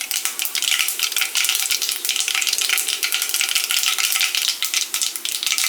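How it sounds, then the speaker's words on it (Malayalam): Mustard seeds spluttering in hot oil with cardamom, clove and cinnamon for an egg curry, a steady dense crackle and sizzle that runs without a break at close range. "ഓയിൽ ചൂടായി വരുമ്പോഴേക്കും അതിലേക്ക് കുറച്ച് കടുക് ഇട്ട് കൊടുക്കുക"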